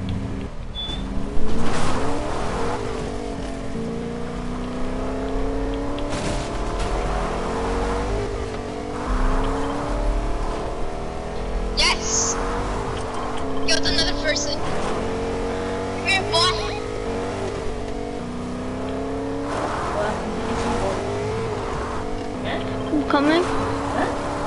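A car in a PC video game drives with a revving engine that rises and falls repeatedly through gear changes, with occasional tire squeals and knocks, while people talk over it.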